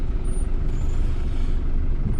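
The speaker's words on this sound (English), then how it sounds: "Fair chunk of buses coming in." Public buses arrive at a depot they share with other vehicles, producing a continuous loud rumble of heavy engines with a brief air-brake hiss.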